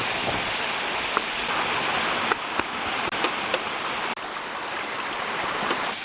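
A waterfall in the Amanos mountains roars in a dense, steady rush of falling water from close by, broken only by a few faint clicks, with no one speaking.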